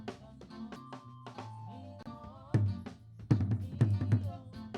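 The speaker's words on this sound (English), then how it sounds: "this is how the front tom sounds like" Isolated front tom drum track looped in a Reaper multitrack mix, with sparse tom hits and resonant low booms rising in a busier, louder burst toward the end over a sustained low tone.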